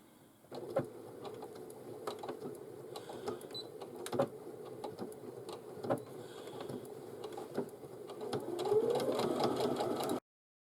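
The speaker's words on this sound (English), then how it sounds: "we need to stitch a 3/8 of an inch seam allowance and go all the way around" A Brother Innovis NV1100 sewing machine stitches a seam around a tote bag in a steady, fast mechanical whir, with occasional clicks and handling knocks and a slight rise in speed toward the end.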